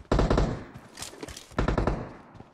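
Rapid bursts of automatic M4 rifle fire in PUBG Mobile, two loud clusters of close shots separated by a short lull with scattered softer pops.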